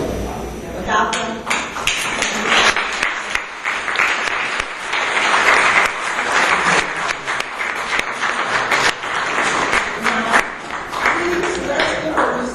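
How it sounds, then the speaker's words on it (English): Audience applause at a peace and global warming forum, sustained clapping throughout with some louder taps and thuds, and voices mixed in underneath. "please let's give a resounding round of applause to everyone standing"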